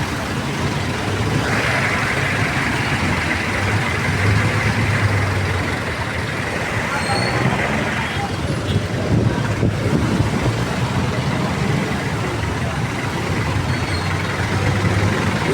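Busy street traffic in Divisoria, with cars and trucks idling and creeping in a jam, a steady low engine rumble and road noise throughout, with brief faint voices in the background.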